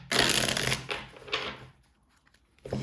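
Tarot cards shuffled by hand during a reading, a dense riffling burst followed by a second shorter shuffle and a brief rustle at the end, close and fairly loud with no voice.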